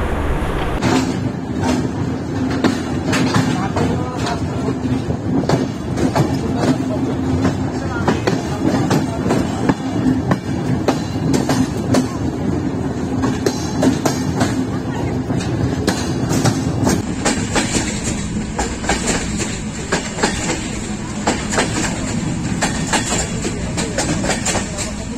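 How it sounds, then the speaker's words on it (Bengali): The Panchagarh Express rolls into Natore railway station in Bangladesh, a loud, steady rumble of wheels and carriages with clickety-clack rhythm throughout, with voices faintly present under the train noise. "পঞ্চগড় এক্সপ্রেস নাটোর রেলওয়ে স্টেশনে প্রবেশ করলো"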